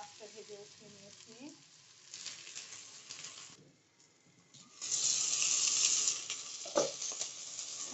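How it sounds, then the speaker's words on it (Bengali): Eggplant and pointed gourd fry in oil in a pan, a soft sizzle that swells into a loud, close hiss midway, with a few scattered clinks and knocks. "আমার বেগুন পটলটা ভেজে নেওয়া হয়ে গেছে"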